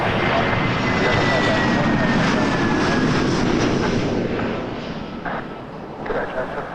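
A fixed-wing airliner takes off from runway 23 at Toronto Pearson at night, a loud, steady engine roar close by that fades slightly toward the end, with radio voices faintly underneath.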